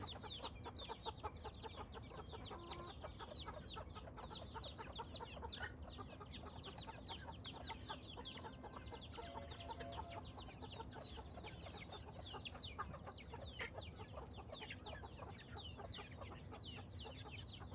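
Chickens in a shed where hens hatch eggs naturally cluck continuously in a dense overlapping chorus, with a quiet, slightly distant flock murmur throughout.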